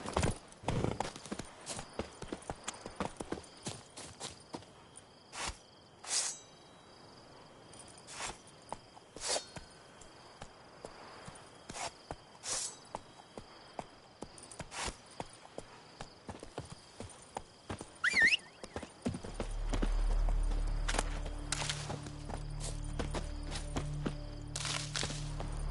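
Hooves of Roach, the horse in The Witcher 3: Wild Hunt on PS5, clip-clop in a quick steady rhythm, close and clear, with a low rumbling ambience building in the final seconds.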